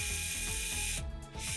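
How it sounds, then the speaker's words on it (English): Screws being backed out of the body mount on an LRP ZR.32 RC car motor, heard as a steady run of close, rapid ratcheting clicks with a brief pause near the end. "I'm gonna go ahead and remove the 4 screws that are attached to the body"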